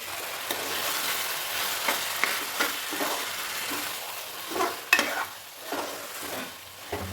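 Ground masala paste goes into a hot frying pan on a gas stove over medium flame, giving a steady sizzle and fry with scraping stirs and a few sharper clatters throughout.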